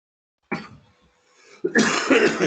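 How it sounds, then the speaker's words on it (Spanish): A single cough bursts out sharply, followed after a brief pause by a louder, rougher second cough with a throaty rasp, both close and alone in an otherwise quiet room. "Qué tosecita"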